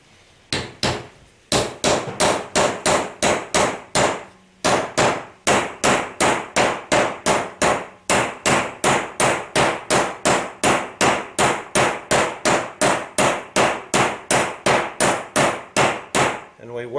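A brass drift is hammered around the hardened outer race of a Polaris RZR 900 wheel bearing, giving loud, sharp metallic strikes in a steady rapid rhythm with a few brief pauses.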